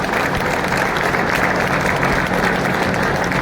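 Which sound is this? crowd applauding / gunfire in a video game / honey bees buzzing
crowd applauding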